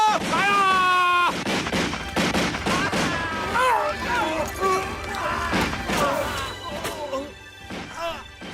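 A musket volley crashes out in a battle scene from The Last of the Mohicans, with repeated loud gunshots and impacts mixed with shouting voices and dramatic music, dense and close.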